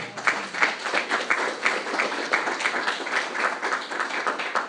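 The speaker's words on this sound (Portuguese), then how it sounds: "Gostaria que vocês dessem uma salva de palmas para a palavra do Senhor." A church congregation claps together after a Bible reading during a sermon: steady, moderately loud applause of many hands in a reverberant hall, with no talking.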